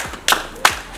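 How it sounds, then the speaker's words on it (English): A classroom claps briefly for a student, two sharp separate claps about a third of a second apart, close and fairly loud, with no talk. "Clap for this girl."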